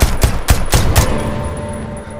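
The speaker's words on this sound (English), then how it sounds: "I'm getting shot by Dre!" Rapid gunfire in a multiplayer deception game: four or five sharp, loud shots in quick rhythm across the first second, then a fading tail with no talk.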